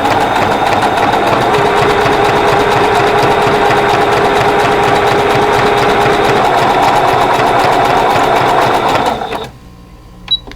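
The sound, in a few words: sewing machine zigzag stitching needle case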